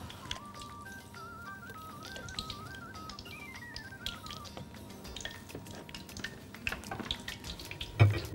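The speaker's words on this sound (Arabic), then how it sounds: "احط بقى الجمبري كده زي ما انتوا شايفين واصفيه كويس قوي من الميه" Tap water runs steadily in a kitchen sink while raw shrimp are rinsed and drained, a soft continuous splash close by with a few clinks near the end.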